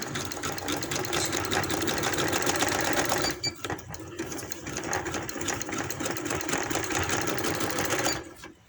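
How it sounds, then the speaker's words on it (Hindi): Sewing machine stitching an embroidery outline on a trouser hem, a loud, fast, even mechanical whirr with one brief pause midway, then running on before stopping near the end. "तो इसी तरीके से मैं इसकी इस तरह से सिलाइयाँ लगाती जाऊंगी।"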